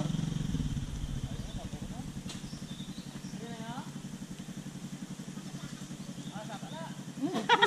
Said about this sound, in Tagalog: Kasunod ko na motor.